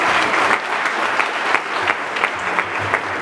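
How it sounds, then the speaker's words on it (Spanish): A crowd at a graduation prom with a youth mariachi band claps warmly, a thick continuous patter of hands with a few sharper individual claps standing out, close and loud, no voices on top. "El aplauso bonito."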